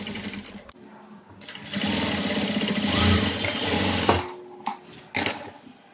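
A sewing machine stitches the lining cloth of a long frock in bursts, a rapid mechanical whirring that starts, runs steadily for a couple of seconds, stops, then gives a few short stitching spurts, close and clear.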